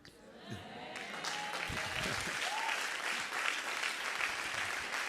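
A church congregation applauding and acclaiming God during a French-language sermon: dense, sustained clapping that swells after the first second and stays loud and steady, with voices and shouts mixed into the crowd noise.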